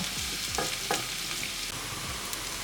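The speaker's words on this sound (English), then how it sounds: "When the oil is well heated, add the bitter melon. Coat in oil and let it cook until it's brown." Bitter melon sizzling and frying in well-heated oil in a pan, a steady close crackle with a few stirring scrapes and clinks, no voices.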